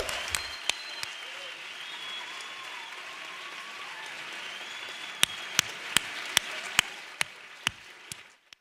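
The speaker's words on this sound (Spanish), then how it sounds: "que demos un aplauso por todo ese esfuerzo que habéis hecho" A conference audience applauds at an opening welcome session, steady mid-level clapping under a faint speaking voice, with a few sharp, separate claps standing out near the end as it dies away.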